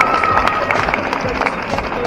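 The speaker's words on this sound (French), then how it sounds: "Applaudissez-les très fort." A crowd applauds at a cosplay contest at a geek convention in Lons-le-Saunier. The clapping is dense and steady, with voices mixed in, for about two seconds.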